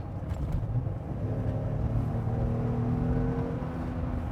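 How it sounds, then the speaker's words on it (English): A 2026 Jeep Wrangler Rubicon's V6 rises to a moderate quarter-throttle rev, a steady close engine drone with climbing tones holding for several seconds, no talking over it. "So let's try to rev it up just a little bit here"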